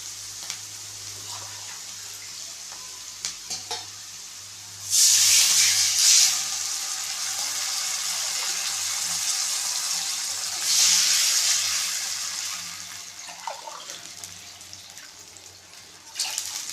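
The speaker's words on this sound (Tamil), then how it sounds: "நம்ம இப்போ தண்ணி சேர்த்துக்குவோம்" Sizzling pan of sautéed vegetables for wheat rava upma, then two loud rushing bursts of water poured in, hissing as it hits the hot pan, followed by steady bubbling sizzle.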